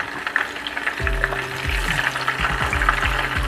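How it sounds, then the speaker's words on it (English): Pointed gourd and potato pieces deep frying in hot oil give off a steady, dense bubbling sizzle that holds close and loud throughout, with no talk. "I am going to deep fry it till it becomes golden brown in color"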